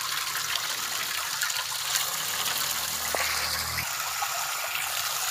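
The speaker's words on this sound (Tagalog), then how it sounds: "lagyan muna natin ng tubig tong ating kaserola." Tap water running and filling a cooking pot (kaserola) to make pancit, a steady close trickle and gush that swells briefly before cutting off near the end.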